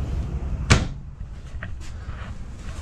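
A large drawer in a 2021 Surveyor Legend 240BHLE lightweight bunkhouse travel trailer shuts with one sharp, close knock, followed by faint small clicks against a quiet indoor hum.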